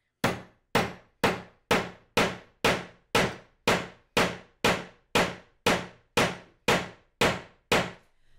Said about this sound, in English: now I'm just going to use my hammer and whack away until it is